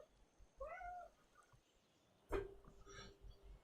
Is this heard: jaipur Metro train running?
no